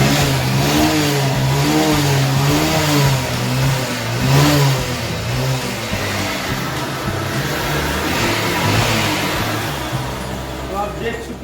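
A Honda Shine motorcycle engine with a piston problem runs close by, loud and continuous with revving swells and a knocking mechanical clatter, while someone talks over it.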